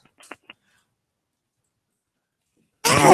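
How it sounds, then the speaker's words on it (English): One sudden, loud sneeze bursts out at the very end after near silence, preceded only by a few faint breathy sounds. "That's me sneezing"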